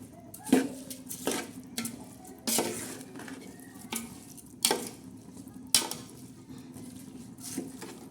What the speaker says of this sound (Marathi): आपण आता हलवून घेणार आहोत